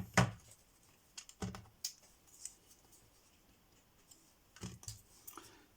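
Scissors cutting a strip in half for a craft project, a few sharp separate snips spaced apart, close and quiet, with no talking between them.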